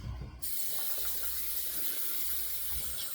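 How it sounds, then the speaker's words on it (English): Tap water runs steadily into shaving soap to thin it toward a lotion, giving a continuous close splashing rush after a brief start, with no one talking. "I'm going to add a touch of water in here."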